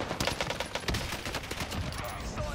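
Rapid bursts of STG44 assault rifle fire in the shooter game Warzone Pacific, dense sharp cracks close up and fairly loud, continuing through the whole stretch with no break.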